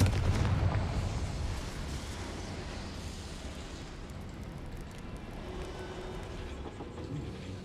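A Confringo blasting spell explosion in the video game Hogwarts Legacy, a heavy rumbling burst with rolling low-end roar that decays slowly into a sustained, crackling noisy tail.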